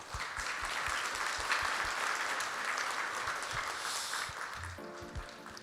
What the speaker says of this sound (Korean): 우리 사장님께 박수 한번 부탁드립니다.